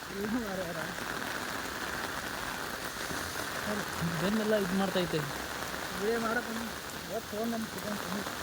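Rain falling on a road in Nagadevanahalli, Bengaluru, a steady, moderate patter throughout, with people talking over it.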